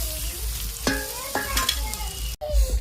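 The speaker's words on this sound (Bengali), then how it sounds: "আলুটা ভাজার জন্য অল্প হলুদ গুঁড়ি দিয়ে দিলাম" Potatoes frying in hot oil with turmeric powder, a steady close sizzle with a few stirring scrapes, ending in a brief clatter.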